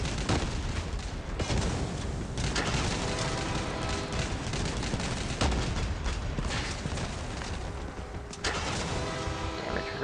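Dense, continuous weapon fire and booming blasts from a vehicle combat battle in the mobile game Crossout Mobile, loud and sustained with overlapping shots and explosions throughout.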